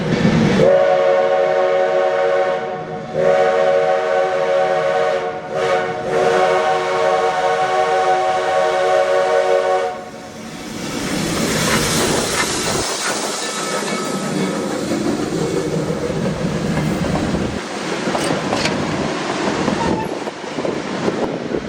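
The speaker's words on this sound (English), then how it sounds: "we'll get to hear lots of stack talk from engine number 110." Steam locomotive No. 110 working hard up a steep grade, long harmonic whistle blasts sounding repeatedly at first, then loud, continuous chuffing exhaust and rumbling rail noise as the engine passes close by.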